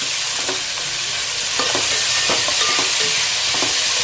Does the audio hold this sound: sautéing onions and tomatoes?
yes